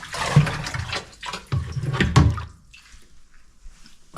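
In a bathroom, water gushes into a container to fill it for washing, splashing loudly in bursts before easing into faint trickles and drips.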